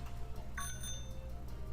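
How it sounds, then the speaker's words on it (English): A bicycle bell rings in Pokemon Sword, a short bright ding near the middle over a steady low game hum, with no talking. "Apparently I can ring my bell on my bike."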